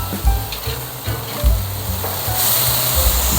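Frozen burger patties sizzle and spit on a gas grill, a steady loud crackle of fat frying close up, with a few sharper pops and flare-up hisses and no talking.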